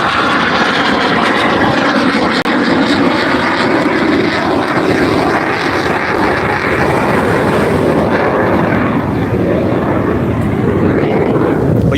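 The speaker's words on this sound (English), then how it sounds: "But yeah, like I was saying, there was a jet." A loud, steady roar of a jet aircraft passing overhead during stormy weather at Virginia Beach, sustained and close throughout with faint background noise.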